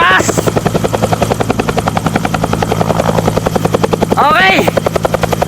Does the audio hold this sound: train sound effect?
no